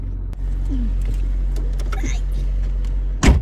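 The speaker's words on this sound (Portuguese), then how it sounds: "Trava a porta." A Chevrolet Monza car door locking, with a steady idle-like rumble throughout, a soft click early on and a loud, sharp mechanical thunk near the end.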